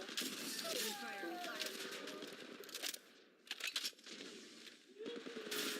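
Automatic gunfire in the mobile battle royale game Apex Legends Mobile, rapid bursts crackling steadily for several seconds, pausing briefly, then resuming, with in-game voice lines and chatter layered over the shooting.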